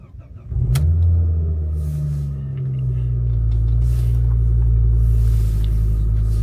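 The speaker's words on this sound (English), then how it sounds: "let's get the car started up" A BMW M3 E46 engine cranks briefly and then fires up close by. It settles into a steady, deep idle rumble that holds evenly with no talking.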